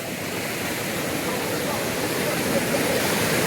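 Gollaradoddi waterfall pours in a continuous broadband roar, close and steady, slightly swelling toward the end, with no voices over it.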